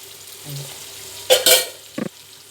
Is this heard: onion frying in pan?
yes